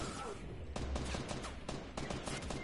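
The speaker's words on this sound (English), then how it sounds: "I heard gunshots" Several bursts of gunfire crack out in quick clusters in Fortnite, sounding somewhat distant behind a steady rumbling background.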